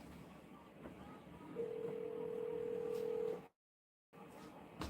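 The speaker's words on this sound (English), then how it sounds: "Alexa, call my phone." An outgoing call rings through an Alexa smart speaker as a steady electronic tone lasting about two seconds, then a brief dead silence follows, over quiet room noise.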